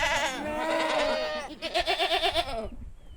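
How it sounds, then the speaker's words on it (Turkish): Goats bleat loudly nearby, one long wavering cry followed by a quick stuttering bleat, then quiet. "50'ye yakın keçimiz var"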